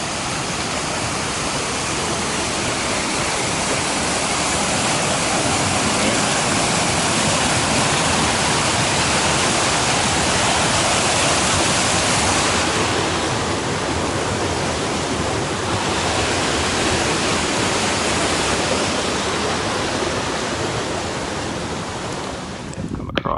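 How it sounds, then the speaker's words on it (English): River rapids on the Appalachian Trail near the Grayson Highlands in Virginia. Water rushes loudly and steadily as a broad, unbroken roar, close by, with no voices throughout. "I'm gonna walk through a pretty neat rapids"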